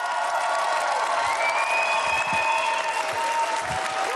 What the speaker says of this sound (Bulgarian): Аплодисменти, уважаеми дами и господа!